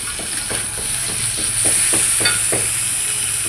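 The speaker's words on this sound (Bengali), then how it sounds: "পেঁয়াজটা একটু লাল লাল হয়ে গেছে এখন বাকি মশলাটা দিয়ে দেব বাকি আদা রসুন বাটাগুলো দিয়ে দেবো" Ginger-garlic paste and spices hit frying onions in a pan for a cauliflower curry, giving a steady bright sizzle with a run of soft rhythmic stirring scrapes, close and continuous.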